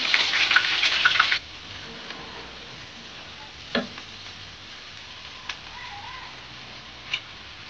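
Onion paste hits hot oil in a pan while chana dal bhuna is being cooked. A loud, bright sizzle bursts for about a second, then drops to a low hiss broken by a few light clinks.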